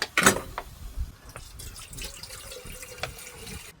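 Water runs from a tap at an outdoor island camp, splashing and dripping in short bursts against quieter handling noises, close and fairly soft with no talking.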